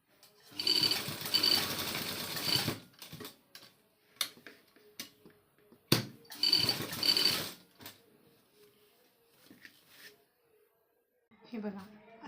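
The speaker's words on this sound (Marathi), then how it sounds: "आता याच्यावर आपण एक फिनिशिंगची शिलाई मारून घेऊया." Domestic sewing machine running a finishing seam on a South Indian matka-style blouse, in two loud steady bursts of stitching separated by short pauses, clicks and handling noises, with a little voice near the end.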